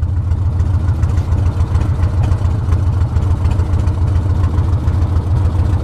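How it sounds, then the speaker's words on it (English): A 1982 Harley-Davidson FXR Shovelhead V-twin idles steadily up close, its loud low-pitched rhythmic lope continuous and uneven, with no voices. "I'm pretty sure if we let it sit right now, it would idle"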